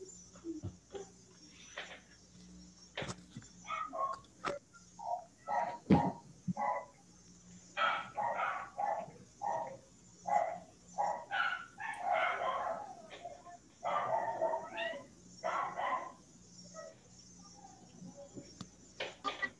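A dog barks repeatedly in bursts of short, sharp barks and yips, fairly close, heard through an open microphone during an online eighth-grade math class.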